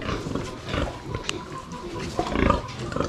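A brown sow on a farm grunts and snorts in a few low, rough bursts against steady barnyard background noise, fairly close, with a louder grunt near the end.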